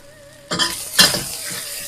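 Chow mein noodles stir-fried in a hot wok: two quick loud tossing scrapes and clatters over a sizzling hiss, close and alone.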